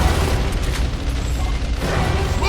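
A grenade blast in the shooter game Gears of War Remastered, on the Canals multiplayer map, rolls out as a dense, sustained low rumble with scattered bursts and debris, loud and continuous with no speech.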